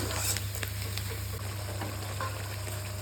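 Vegetables frying in a pan for veg biryani, a steady close sizzle with a few faint pops and stirring scrapes over a low hum.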